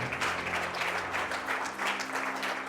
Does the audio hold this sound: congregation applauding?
yes